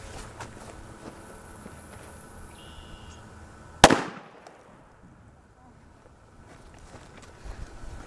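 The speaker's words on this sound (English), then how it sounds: "First I have a standard issue 2-inch cracker for comparison." A standard red 2-inch firecracker explodes outdoors with a single sharp, loud bang, followed by a brief fading echo and quiet wind and ambient noise on either side.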